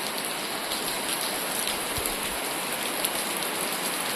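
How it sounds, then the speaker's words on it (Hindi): Heavy monsoon-style rain pours down steadily in a rural farmyard, a dense continuous hiss of drops hitting surfaces nearby, with no voices. "काफ़ी तेज़ बारिश हो रही है"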